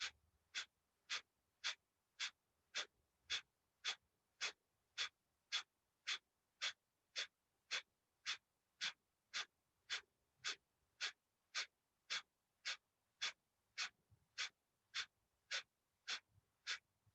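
Kapalabhati yoga breathing, forceful nasal exhalations pumped out in a steady, evenly spaced rhythm of roughly two per second, about thirty sharp puffs in a row, close and clear over near silence.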